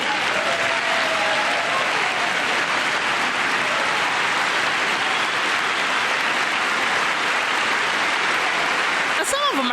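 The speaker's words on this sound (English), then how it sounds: "Clapping now on the other side." Loud, sustained applause from a large crowd at a State of the Union address, dense and continuous throughout with no pauses.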